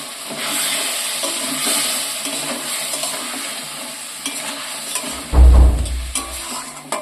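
Water poured into a hot pan of spiced, salted potatoes being fried, a steady sizzle with stirring, then a sudden loud burst of hissing and bubbling as the water hits.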